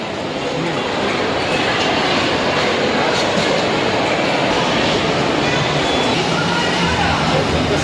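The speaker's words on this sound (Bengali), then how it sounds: "ওখানে বাচ্চাদের টয় ট্রেন আছে" A children's toy train rumbles and clatters continuously nearby, a loud steady rolling noise with a murmur of voices in the background.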